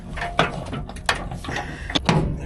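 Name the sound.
combine harvester door being put back on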